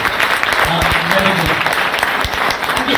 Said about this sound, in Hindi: मेरे लिए ताली बजाओ एक बार आप इधर से